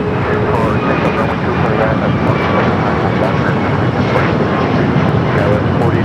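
An airliner takes off from runway 25 Right at Los Angeles International Airport, a steady, loud broadband engine roar that holds without a break for the whole stretch.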